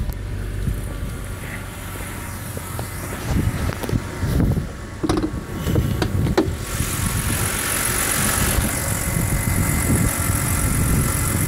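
Engine of a 2013 BMW 328 xDrive idling with a low, steady hum, joined midway by a few clunks and rustles nearby, then a broader wind-like hiss as the idle continues.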